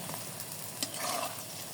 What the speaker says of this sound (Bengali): এখন লাল লাল করে ক্রিস্পি করে ভেজে নেব